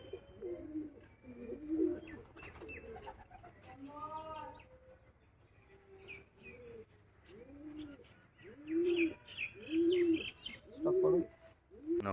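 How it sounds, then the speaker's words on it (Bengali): Pigeons, freshly acquired from Kolkata, give repeated low rhythmic coos, several clear calls in a row growing louder toward the end, with softer chirps and faint background noise between them. "এটা রিসেন্ট কালেকশন করা পায়রা কলকাতা থেকে নেওয়া"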